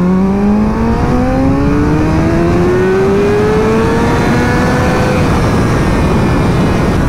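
A motorcycle accelerates hard in second gear from about 40 to 100, its engine note climbing steadily in pitch and then easing off near the end, loud and close with no talking.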